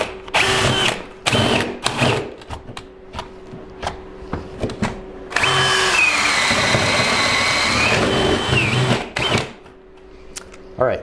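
Power drill boring into a garage ceiling, running in short bursts and then one long sustained whine, loud and close, with brief pauses between pulls of the trigger.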